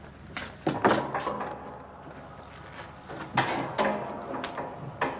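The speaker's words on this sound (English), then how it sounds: "The old crow downstairs said there's a folding bed behind this door." Folding bed pulled out from behind a door in a stuffy room, with several wooden clunks, creaks and knocks in two bursts, fairly close and moderately loud.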